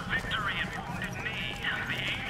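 Horse hooves clip-clop at a walking pace in a Bioshock Infinite street scene, a soft steady rhythm mixed with game ambience and someone talking over it.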